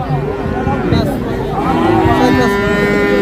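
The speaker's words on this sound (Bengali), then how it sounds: "এপাশে আরও একটা সুন্দর ক্রস জাতের বকনা বাছুর আছে" A crossbred heifer calf moos loudly and repeatedly at a busy cattle market, the lowing calls close and drawn out over a steady background of crowd noise.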